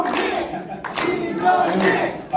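Audience clapping to welcome National Assembly member Yoo at a political talk event, a brief burst of mid-level applause with a voice over it and crowd murmur throughout.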